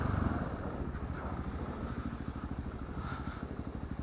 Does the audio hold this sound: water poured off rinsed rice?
no